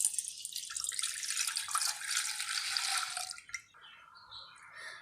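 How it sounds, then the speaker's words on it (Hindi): Half a kilo of milk pours into a pot for Kashmiri pink tea, a close splashing liquid stream that runs for several seconds, then tapers off to faint drips. "अब मैं इसमें आधा किलो दूध डाल दूंगी।"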